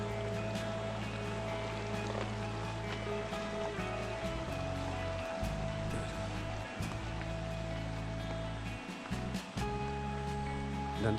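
A river flows in front of a stilt house in the forest near Malasari village, Bogor, making a loud, steady, close rushing of water that runs unbroken throughout with no talking.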